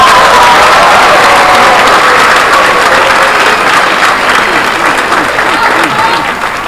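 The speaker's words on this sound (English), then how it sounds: "would you please join me in a round of applause for the hard work that these leaders have shown to Lincoln?" A graduation audience claps in sustained, dense applause, loud and enveloping, slowly fading slightly toward the end.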